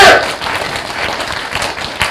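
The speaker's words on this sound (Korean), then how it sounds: "박수 한번 쳐주세요. 아, 박수 소리가 약해." An audience at a lecture gives a round of applause, a steady wash of many hands clapping from across the room, fairly even in level without distinct individual claps.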